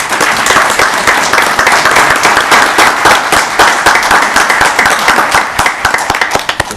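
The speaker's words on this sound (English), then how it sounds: "So if you would join me in a round of applause to honor." Loud, close applause at a town council meeting honoring parks department staff, many hands clapping densely and continuously, with a few sharper individual claps standing out toward the end.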